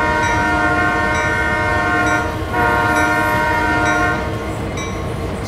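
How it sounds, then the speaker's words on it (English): Union Pacific SD40 diesel locomotive from the Train Sim World 2 game sounding its horn continuously and loudly throughout, layered over a steady low engine rumble and rolling train noise, with no one talking. "It's got a great horn on it,"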